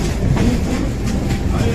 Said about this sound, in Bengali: এই যে ট্রেনটা, এই ট্রেনটা করে এসেছি।